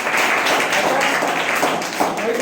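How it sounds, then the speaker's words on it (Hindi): Children clapping together in a classroom, a dense, steady patter of many hands that continues evenly and close by for the whole moment. "ताली।"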